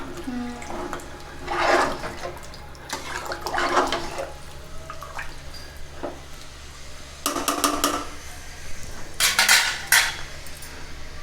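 A spoon or ladle scrapes and clanks in a pot as gongura chicken pulao rice made with ordinary rice is mixed, in repeated bursts of metallic scraping over a steady low background hum.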